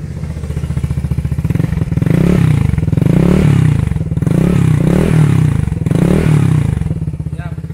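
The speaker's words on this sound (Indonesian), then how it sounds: "Coba kita geber dikit ya." A small two-stroke Vespa scooter engine fitted with an oil cooler idles with a rapid putter, then revs up repeatedly in short bursts before settling back, close to the microphone.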